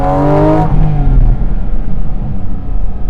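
A loud sports car engine roars from inside the cabin, revving high and then dropping into a deep, rumbling drone; cabin noise can reach 108 decibels.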